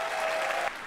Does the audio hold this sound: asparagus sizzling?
no